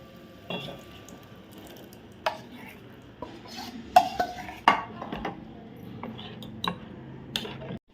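A spoon scrapes and knocks against a pot of mung dal and jaggery water in a few scattered clinks and soft squishes, with quiet gaps between the strokes.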